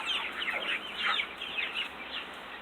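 Four-week-old baby chicks cluck and peep in a brooder, a busy overlapping chatter of many birds, faint and steady with no voices.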